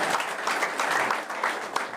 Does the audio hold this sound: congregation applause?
yes